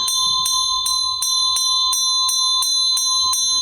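A Meinl bell struck in an even, steady rhythm, about ten bright ringing strikes with a sustained high tone sustaining between them, close and clear with no speech.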